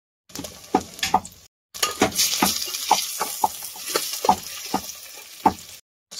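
Onion and tomato masala sizzles in a pan cooked outdoors beside a truck, with sharp scraping stirs and clinks of a spoon against metal, close and busy, broken by a short silent gap.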